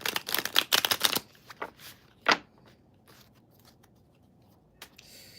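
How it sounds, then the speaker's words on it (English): Tarot cards are shuffled in a quick flurry of crisp riffling snaps up close, then a few softer isolated taps and a sharp slap follow in an otherwise quiet room. "Last shuffle."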